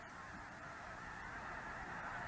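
Geese honk during their daily flights between pasture and the Fraser River delta marshes, a faint continuous chorus of overlapping calls from a distant flock with no talk over it.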